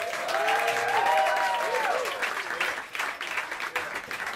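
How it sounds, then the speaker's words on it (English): A jazz club audience at Smalls in New York City claps warmly, loudest at the start and thinning toward the end, with voices calling out over the applause. "Please, a wonderful, wonderful round of applause, Mr. Mamadou Kanate"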